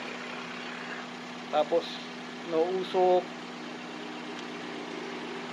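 A 1996 Toyota Corolla big body engine idles with a steady, even hum, while someone talks briefly over it.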